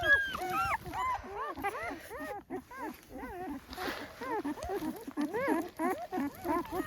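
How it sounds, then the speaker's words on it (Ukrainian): Newborn puppies in an abandoned house in the Chornobyl zone forest whimper and squeal continuously, a dense chorus of high wavering cries close by, with someone talking over them. "І що мені робити з цими щенятами?"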